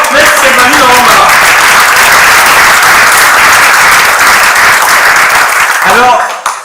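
Loud, sustained applause fills a hall from a large crowd at a New Year's greetings tour address in the German-speaking Community, dense clapping continuing before fading out near the end.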